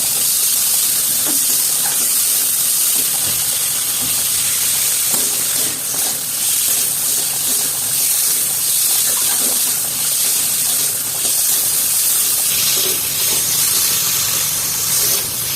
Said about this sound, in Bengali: সিদ্ধ করে রেখেছি আলুগুলোকে হালকা ভালো করে কষিয়ে নেব